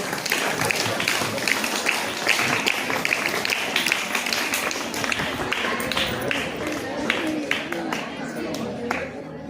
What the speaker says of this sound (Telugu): గట్టిగా చప్పట్లతో